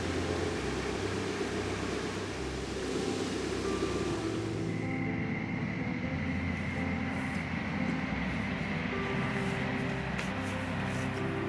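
A train passing close to a canal, heard as a loud, steady rumble and broad roar that fills the whole clip, with a sustained whine rising partway through as the wagons roll by.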